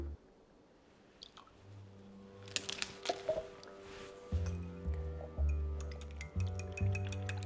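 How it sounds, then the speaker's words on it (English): Whole milk and vanilla flavoring are whisked for French toast, giving quiet clinks and wet squishes that settle into a steady rhythmic beat in the second half. "Get that good and whisked up"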